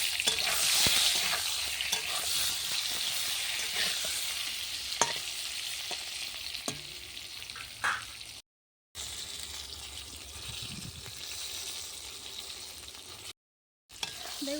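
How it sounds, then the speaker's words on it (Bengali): Eggplant pieces with turmeric and salt fry in oil on a clay stove, a continuous close sizzle broken by occasional sharp spatula scrapes and clinks, with two brief dropouts. "হলুদ গুঁড়ো নুন বেগুনগুলো লাল করে ভেজে নেব"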